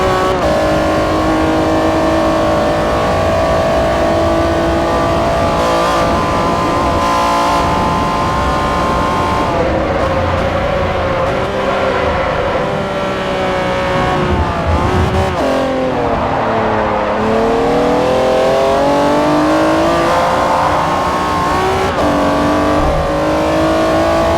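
Acura NSX engine in the Forza Motorsport 4 racing game, played through the Xenia emulator, roars continuously and loudly as revs climb and drop through shifts and corners, with brief tire squeal and no speech.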